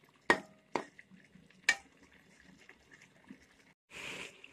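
Masala with yogurt stirred and fried in a pot for egg dum biryani: a few sharp scraping clinks of a spoon against the metal pot, then a short burst of sizzling frying near the end, close and moderately loud.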